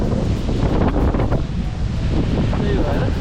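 Strong wind roars and buffets the microphone at Sioux Falls, South Dakota, blowing spray off the water. The loud, continuous gusting rush has a surf-like wash underneath and no voices.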